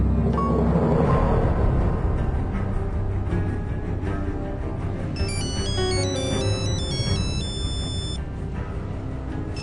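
Melodic high beeps of a phone ringtone start partway through, sounding over a loud, busy background of music and noise.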